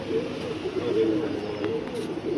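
Soft, low cooing of a Punjabi Malwai pigeon repeats in a gentle rolling rhythm, close by, with faint background noise and no talking.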